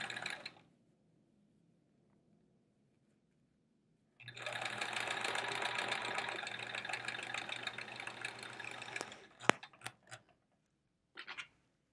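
A sewing machine runs a steady burst of stitching through quilt block pieces for the Open Arms block, starting after a brief quiet and ending with a few clicks and a short final whirr; no talking.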